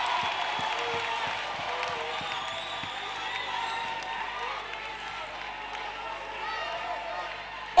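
A church congregation applauds and cheers together, a dense steady wash of many clapping hands and raised voices that holds at a fairly even level throughout.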